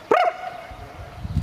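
An English Springer Spaniel at a German game fair gives a single sharp, close bark with a ringing tail, followed by low rumbling background noise.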